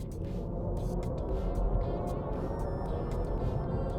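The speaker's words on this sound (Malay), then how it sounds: "So tiap-tiap kali you tukar mode, dia akan ada bunyi itulah." Synthetic chime-like tone played by a 2025 Mini JCW Electric when switching drive modes, a warbling electronic sound over a steady low hum, continuous for a few seconds with no talking.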